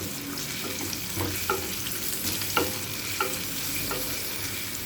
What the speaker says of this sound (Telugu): బాగా వేగనివ్వాలి ఉల్లిపాయ ముక్కల్ని